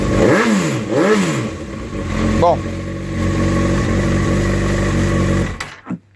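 Honda CB1000R motorcycle fitted with an SC-Project oval carbon exhaust, revving twice sharply near the start then settling into a steady, loud rumbling idle until it cuts off; someone speaks briefly at the start.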